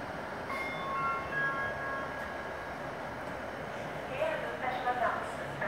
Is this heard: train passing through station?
yes